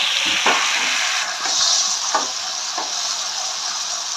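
Ripe tomatoes frying in a pan for tomato bath, a loud continuous hiss and sizzle broken by a few scraping stirs, heard up close with no talking.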